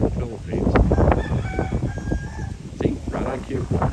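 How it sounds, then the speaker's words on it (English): Roosters crow outdoors in Antipolo and Tanay, Rizal, in the Philippines, with a couple of drawn-out calls rising mid-distance while a person talks over them throughout. "You can hear the roosters,"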